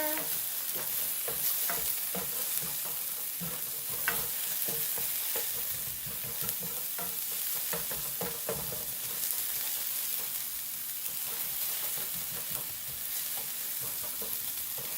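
Sweet potato taco filling sizzling steadily in a hot pan while a utensil stirs it, giving a continuous close frying hiss with scattered scraping knocks throughout, no talking.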